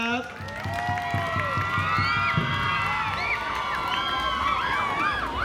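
Audience cheering at a village drum-contest merit festival: whoops and shouts from a crowd that includes children, with some clapping near the start, continuing throughout under a speaking voice.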